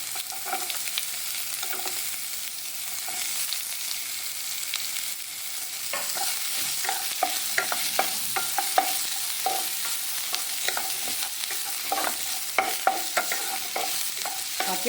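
Garlic and onion sauté in a pan for a drumstick-leaf soup, a soft continuous sizzle that gives way after a few seconds to frequent sharp scraping and tapping of a spoon stirring against the pan.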